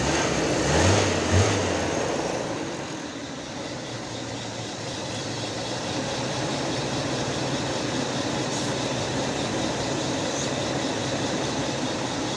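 An engine drones steadily and fairly loud after the throttle is opened, close by, with a brief louder rise near the start and then a sustained even roar and no speech.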